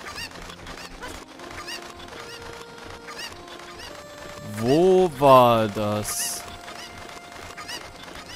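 A chicken in the Zelda game Ocarina of Time gives a loud, harsh squawking cackle in one sudden burst of about a second and a half, rising above game music and someone talking in German.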